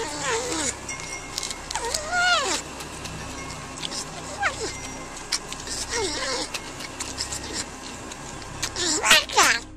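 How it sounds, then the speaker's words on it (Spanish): A hungry porcupine feeds greedily, giving repeated squeaky, whining rises and falls over a steady scratchy, smacking chewing noise. Everything sounds close and fairly quiet, with louder squeals near the end. "se trata de un hambriento puercoespín dándose un festín y comiendo con gula"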